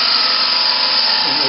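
A wood lathe spinning a bowl blank at around 1,500 RPM while a gouge rides the bevel: a loud, steady, high-pitched cutting whine that holds even throughout, with no break.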